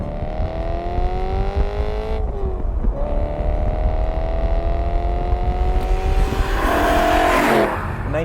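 A BMW E92 M3 with its naturally aspirated V8 pulling on part throttle under load, a smooth rising induction and engine note that dips briefly between gears, then climbs again with a brief tire-like squeal near the end.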